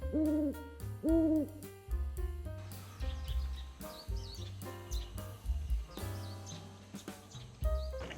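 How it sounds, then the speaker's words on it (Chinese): Night birds call in a quiet rural area of Yilan, Taiwan: a string of fairly loud, close hooting calls, repeated in uneven bursts with short gaps and no talking. "这边只有虫鸣鸟叫的声音了"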